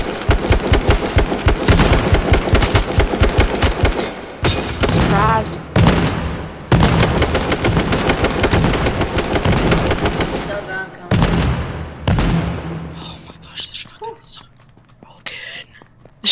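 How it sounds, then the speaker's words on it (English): Rapid shotgun blasts fire in quick repeated bursts during an online survival shooter match, loud and sharp, with gaps and a tail of scattered shots as players talk over the action. "Shotgun is so broken, dude. I shot this guy like 20 times with it."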